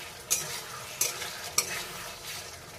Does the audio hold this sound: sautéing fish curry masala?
yes